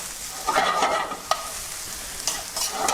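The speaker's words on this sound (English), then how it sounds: "If you don't want to toss, you can just do a little stir." Pasta with broccoli, chilies and garlic being stirred in a pan, with a soft sizzle and scraping swirls, one sharper clink in the middle, no talking.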